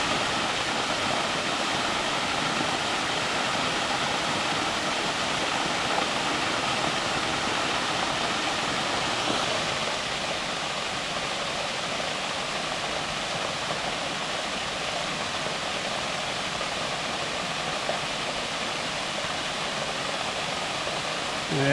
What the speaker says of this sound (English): Good waterfall.